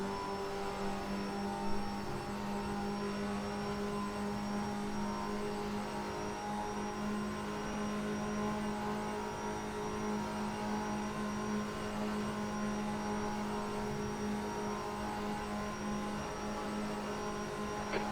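Audi race car in a racing video game, its engine holding a steady, droning high-revving note with a constant tonal whine through fast corners, loud and continuous with no talk.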